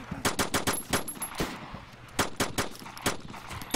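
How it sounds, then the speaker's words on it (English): Rapid bursts of automatic gunfire in a video game, loud and close, with sharp repeated shots in clusters and brief gaps between volleys. "Wait, did you just fire on the guy?"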